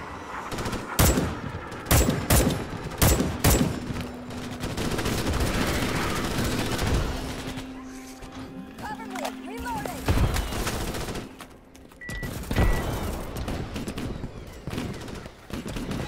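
Rapid bursts of automatic gunfire crack through a Starship Troopers: Extermination game battle, loud and clustered early then sporadic, with voices talking over droning background sounds.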